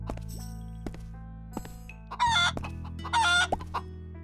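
A chicken in the VR game Viva Project clucks and squawks in two loud, close bursts, with a few sharp thuds and a low ambient hum around them.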